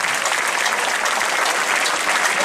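Crowd at an evening show applauds the mayor in a steady, dense wash of clapping, loud and unbroken, with no voices on top.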